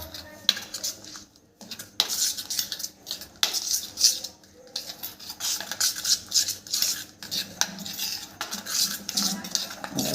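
A spoon scrapes and clinks against a metal pan while loose chili paste mixed with a little water is stirred, in irregular close strokes with short pauses, and a voice speaks faintly at times.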